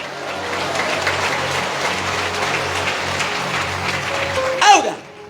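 Church congregation clapping loudly during a service, sustained crowd applause with a low voice or music underneath, ending in a brief louder swell and a sharp sweeping sound before fading out.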